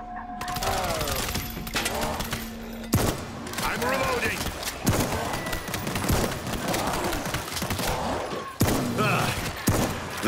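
Bursts of gunfire in the World War Z zombie video game, repeated sharp cracks and volleys over roughly ten seconds, loud against a busy game soundscape with shouting voices.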